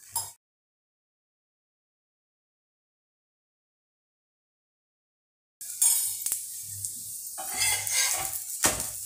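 After a long silence, a cheese-stuffed potato paratha crackles in oil on a hot pan, a close sizzle joined by clinks and scrapes of a utensil against the pan.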